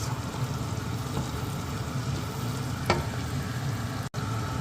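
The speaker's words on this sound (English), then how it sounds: "So I'm gonna fry this a little bit." Chopped carrots fry in a pan as the base for pasta Bolognese, a steady close sizzle and crackle running throughout with one brief scrape partway.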